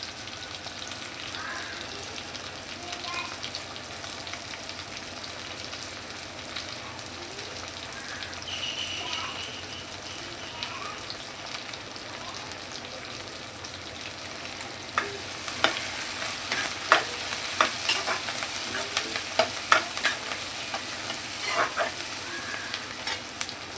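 Small shallots sauté in a pan for a fish curry, a steady close sizzle broken by repeated scraping and clinking of a spoon stirring them, the stirring growing busier and louder in the second half.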